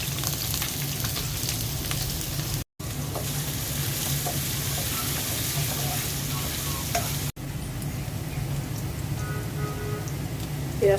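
Chopped onions fry steadily in hot oil in a pan, making a constant crackling sizzle with occasional stirring. Cut in a Bengali kitchen while cooking a prawn and lotir torkari curry, the sound is close and even throughout, with two brief dropouts.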